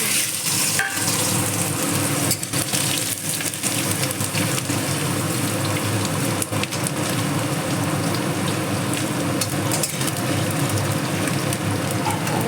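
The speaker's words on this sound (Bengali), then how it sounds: "আমার তেল গরম হয়ে গেছে, এখন কেটে ধুয়ে রাখা আলুগুলো ভেজে নেব।" Potatoes, cut and washed, frying in hot oil for a cauliflower-stem dish, giving a loud, steady, dense sizzle with crackling spatter that lasts throughout and has no talk over it.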